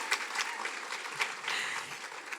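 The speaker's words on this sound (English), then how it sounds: "yes, a round of applause" A room of audience members applauds steadily as a businesswoman and community leader is introduced at a Houston leadership summit, with the dense clapping holding at one level throughout and no voices on top.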